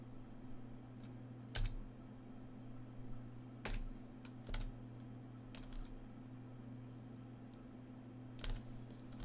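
Computer keyboard keys are pressed during a game of ToME (Tales of Maj'Eyal): a few sparse, fairly faint clicks spaced seconds apart over a steady low fan hum.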